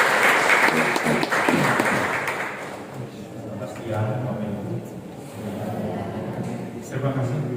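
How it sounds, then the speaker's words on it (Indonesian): A crowd applauds loudly for a couple of seconds at an Indonesian foundation's thanksgiving event, then the clapping fades as a voice begins speaking in Indonesian over a quiet room. "Berikan tepuk tangan yang luar biasa."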